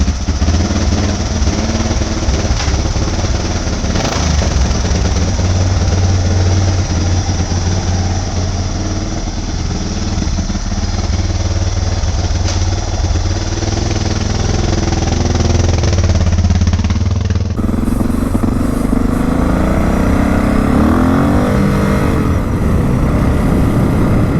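Suzuki DR650 motorcycle with performance modifications runs with a loud, steady, rough engine drone, shuddering and jerky, continuous and close, shifting in tone near the end, no talking.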